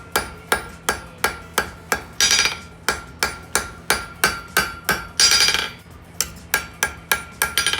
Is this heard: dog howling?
no